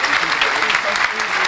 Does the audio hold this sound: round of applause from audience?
yes